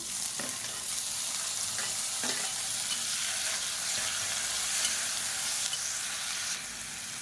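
Tomatoes frying in oil for a spicy chutney, with a loud continuous sizzle close by and occasional soft scrapes of a spoon stirring through the pan, with no one speaking.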